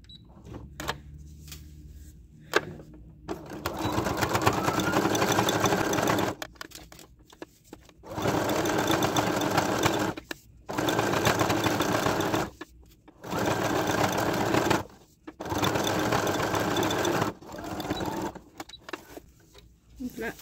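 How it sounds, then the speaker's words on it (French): Sewing machine topstitching a few millimetres from the edges of a fabric bag, using a longer stitch. It runs in several long whirring bursts separated by short pauses, close and loud, with brief handling clicks in between. "je vais aller faire une surpiqûre ici à quelques millimètres des bords pour former ici"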